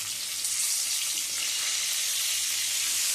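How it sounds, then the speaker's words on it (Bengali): Potato, carrot and bean pieces seasoned with a little turmeric fry in hot oil, giving a loud, continuous sizzling hiss close by with no talking. "সমস্ত সবজিগুলো ভেজে নেব"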